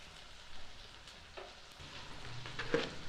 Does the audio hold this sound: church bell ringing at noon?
no